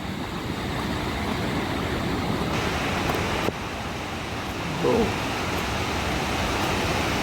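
A constant, loud roar of rushing water from Savatsada waterfall near Chiplun fills the scene, with a brief voice heard faintly underneath.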